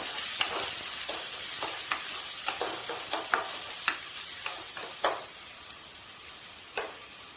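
Finely chopped onion fries in hot oil in a pan, giving a steady soft sizzle with scattered light taps and pops from stirring, close and alone without any voices.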